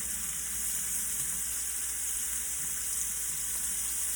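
Seafood searing in a pot for Cajun seafood Alfredo pasta gives a steady, even sizzle that hisses on for the whole stretch, close and moderately loud, with no talking over it.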